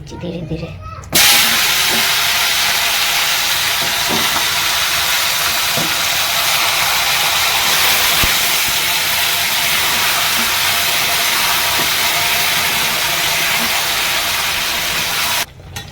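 Chicken pieces slide into a wok of fully heated mustard oil and erupt into a loud, continuous sizzle that holds steady for several seconds before cutting off.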